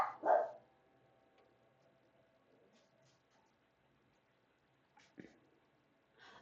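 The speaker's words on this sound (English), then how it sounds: "my dogs are barking" Dogs barking indoors at a home, a couple of short barks near the start, then quiet room tone, then a few more sharp barks toward the end, fairly faint and distant.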